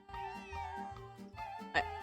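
A cat meows repeatedly in the Nancy Drew: Secret of the Old Clock video game, several drawn-out, insistent mews in quick succession, close and clear, with no talking.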